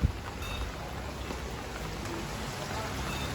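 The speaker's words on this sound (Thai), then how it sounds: "เปียกฝนมาเลยนะครับทุกคน" Steady rain patters on surfaces all around, a dense, even hiss of drops close by that holds constant throughout, with no clear voices over it.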